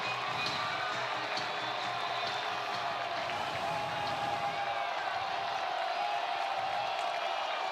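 College football stadium crowd at Missouri State versus Marshall, a steady distant roar of fans with scattered shouts and whoops, continuous and moderately loud under the broadcast.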